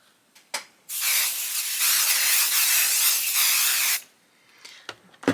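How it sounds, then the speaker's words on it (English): An aerosol can of adhesive spray sprays onto quilt batting in one steady, close hiss lasting about three seconds, with faint handling taps before and after. "So I just like to do a little adhesive spray so that it can keep that in place"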